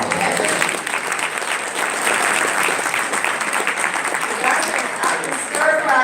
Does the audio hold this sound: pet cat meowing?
no